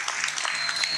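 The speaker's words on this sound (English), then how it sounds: "Let's give them a big round of applause." Brief burst of audience applause at an 8th grade promotion ceremony honoring graduating students, a steady patter of many hands in a hall, fairly loud and continuous through the moment.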